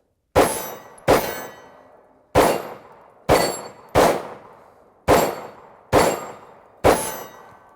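Eight sharp gunshots from a Hi-Point carbine and C9 pistol, each with a ringing tail as rounds strike steel targets on an outdoor range, fired at uneven intervals with no talking.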